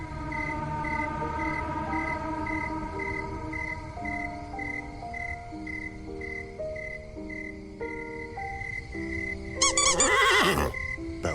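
A horse neighs with a sharp, loud whinny near the end. Before it comes a long stretch of steady tonal background with shifting sustained notes.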